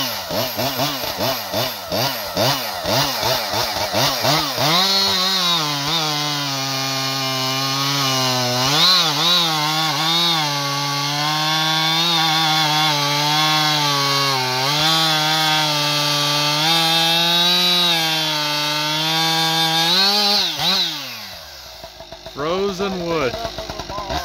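A Husqvarna 585 XP chainsaw fitted with an expansion chamber pipe screams at high revs while cutting wood, its loud wavering engine whine dipping and rising under load for about twenty seconds before winding down.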